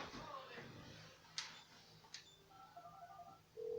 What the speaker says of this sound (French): Bon, maintenant je peux prendre mon téléphone.